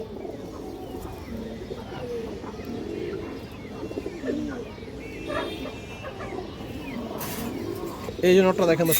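Red high-flyer pigeons with black tails coo in low, overlapping rolling calls nearby while someone talks over them, with a brief louder burst near the end.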